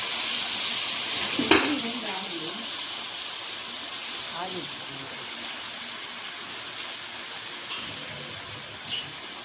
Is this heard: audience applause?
no